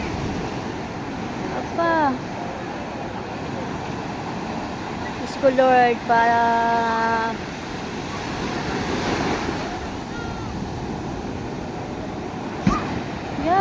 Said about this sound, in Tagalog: ang lalaki ng alon. Tingnan niyo naman po ang alon